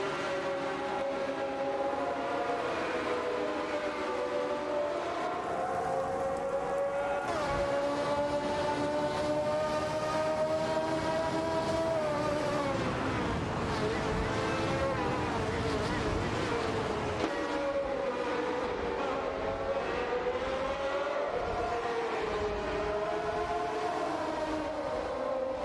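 AI-driven race cars launching at the start of a video game race, a dense continuous engine drone with sliding, wavering pitch that rises and falls throughout, loud and steady, with a voice talking over it.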